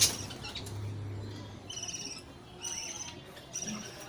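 Newly hatched bird chicks give thin, high chirps in short clustered bursts, fairly close and moderately faint against a quiet background.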